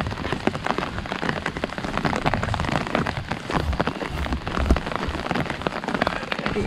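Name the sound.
heavy rain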